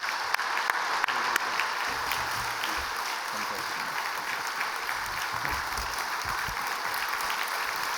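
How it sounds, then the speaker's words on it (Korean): Applause from a church congregation welcoming the president to the front during a Sunday worship service, a steady sustained clapping that fills the room at moderate level with broadband texture throughout. "우리 총장님 나오실 때 큰 박수로 환영하시고"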